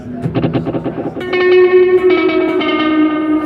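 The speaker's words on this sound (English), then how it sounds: "So you hear the kind of complex interaction of the repeats there." A Strymon pedal emulating a Space Echo tape delay, with heads spaced on a Fibonacci pattern, turns plucked guitar notes into dense overlapping repeats that stack into sustained, chorus-like tones with echo trailing off.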